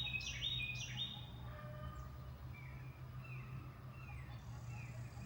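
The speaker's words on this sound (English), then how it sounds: "Lots of birds, hearing frogs." Birds chirp and tweet outdoors in short bright bursts, loudest near the start and repeating more faintly after, over a low steady background rumble; no voices.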